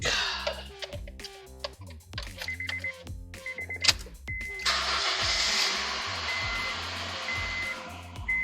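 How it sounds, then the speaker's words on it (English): A car engine with new spark plugs cranks over and catches, then settles into a steady, fairly loud idle with a high whine riding on top. "I'm going to start it for the first time with the new spark plugs and see how it sounds like"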